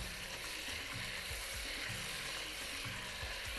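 A spoon stirs tomato sauce through a pot for an Egyptian tilapia fish and rice casserole, giving a steady low sizzle with soft scraping strokes, close and continuous, no talking.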